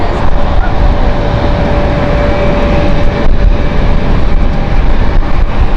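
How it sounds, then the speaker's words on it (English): Silk Way Airlines Boeing 747 from Baku arriving inbound at Amsterdam Schiphol Airport, a loud continuous roar of jet engines with a steady broadband rumble and a faint thin whine. "Apparently the Azerbaijan 747 is inbound."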